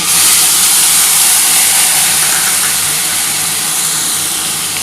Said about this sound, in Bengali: এবার এই তেলের মধ্যে আমি প্রথমে কিন্তু পেঁয়াজ বাটাটা দিয়ে দিচ্ছি।